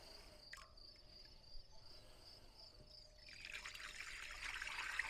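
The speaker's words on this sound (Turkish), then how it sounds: "Şimdi şöyle bir süzgeç ve tülbent yardımıyla süzeceğiz içerisindekileri." Pine cone syrup is strained through a strainer and cheesecloth, giving a soft liquid trickle that swells into a steadier pour in the second half, faint under quiet room noise and a thin high whine.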